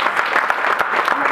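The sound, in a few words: audience applause at awards ceremony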